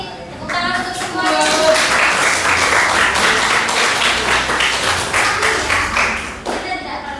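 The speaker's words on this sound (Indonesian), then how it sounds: "Tepuk tangan untuk semua." Classroom audience clapping at the end of a teaching practice session in Indonesia, loud, close applause filling several seconds before tapering off, with a few voices mixed in.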